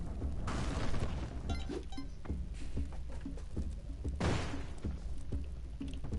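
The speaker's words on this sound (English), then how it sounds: "Saw a lot of explosion." Explosions burst out in the video game Spelunky 2, two loud broadband blasts a few seconds apart over a dense bed of clattering game effects and thumps.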